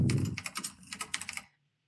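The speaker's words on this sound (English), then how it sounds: "So for instance, a typing sound." Rapid keystrokes clatter on a computer keyboard in a quick burst, close and crisp, then stop abruptly into silence.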